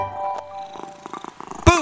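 A kitten meow in a French children's action song about a little kitten hiding in a cardboard box, a single sharp, close meow arriving at the end after a soft musical passage with light tapping.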